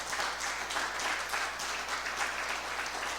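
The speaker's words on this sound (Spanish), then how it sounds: "Dele un aplauso de alabanza al Señor" A church congregation claps in praise, a dense, continuous patter of many hands heard at a moderate distance in a reverberant hall, steady throughout with slight rhythmic swells.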